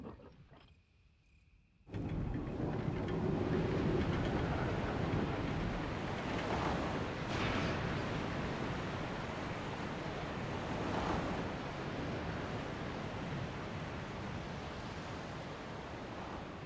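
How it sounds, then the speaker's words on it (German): A distant waterfall in a video game rushes in a steady, broad roar that swells in after a brief quiet start and holds evenly throughout. "Sie hören das entfernte Rauschen eines Wasserfalls."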